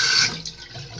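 Water runs from a tap to wet hair for a hot oil treatment, a close, hissing splash that is loudest at first and then softens into a steadier trickle.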